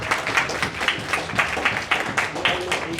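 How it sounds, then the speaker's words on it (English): An audience claps for panel speakers at an intercultural dialogue event, a brief, moderately loud burst of hand claps with uneven rhythm lasting about three seconds. "Let's all give them a round of applause,"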